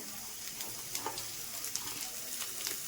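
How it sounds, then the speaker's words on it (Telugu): Chopped spring onion stalks frying in a pan with oil, a steady close sizzle running throughout with a few small crackles and light scrapes, no talking. "మనం ఇది కూడా వాసన పోయేదాకా వేయించుకోవాలి"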